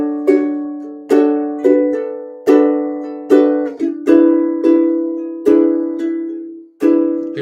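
A bossa nova etude on ukulele, plucked chords struck at a steady syncopated pulse, each ringing and decaying before the next, close and clear with no voices.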